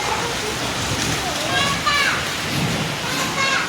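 Heavy rain pours steadily on a rainy day in Hamirpur, a dense continuous hiss and splatter, with faint voices heard faintly through it.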